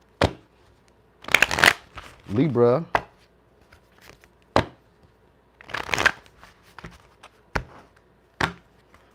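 A deck of tarot cards is shuffled in several quick riffling bursts, with a riffle-and-bridge flutter in the middle and sharp taps of cards on a table in between. A voice speaks briefly and quietly between the shuffles.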